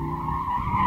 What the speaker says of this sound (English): I can just feel the tyres just chewing away at the tarmac.